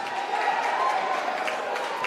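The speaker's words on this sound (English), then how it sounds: "The crowd starts to get into it." A boxing crowd at a Tri Star Boxing fight roars steadily, a dense, continuous wash of cheering and noise from a packed hall, with no clear single voice standing out.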